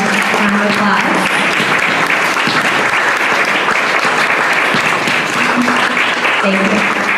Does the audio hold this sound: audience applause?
yes